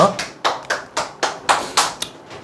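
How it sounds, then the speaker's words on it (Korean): A small group clapping hands in a room, several sharp bursts of applause in a quick uneven rhythm, close and fairly loud. "박수 한번 치시죠."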